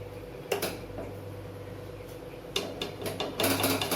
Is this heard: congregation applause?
no